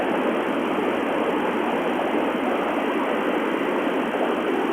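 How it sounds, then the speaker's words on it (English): Steady, dense hiss from a noisy ham radio receiver during an RS-44 satellite pass with noise reduction on, a flat band-limited static wash filling the whole stretch with no clear voice. "Very noisy today, and I got the noise reduction on."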